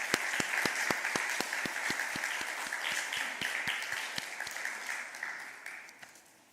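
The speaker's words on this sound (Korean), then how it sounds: "우리 박수 한번 하겠습니다." A church congregation at a Sunday morning service claps together, with a strong, even, steady rhythm of loud unison claps that gradually slows and fades out.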